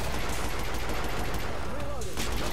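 Rapid gunfire from a weapon in the video game Killing Floor, a dense continuous burst of shots that runs throughout at steady loudness, with a brief dip near the end.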